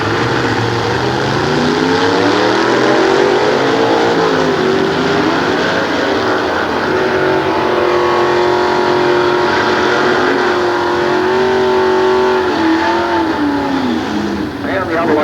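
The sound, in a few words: Chevrolet-powered 1940 Willys Coupe drag racing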